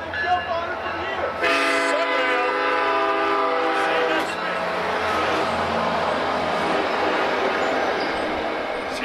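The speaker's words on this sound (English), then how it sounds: "as we hear the train coming by right now" A train passes nearby, sounding a loud, sustained multi-tone horn for a few seconds. A steady rolling rumble of rail cars follows, with faint talk in the background.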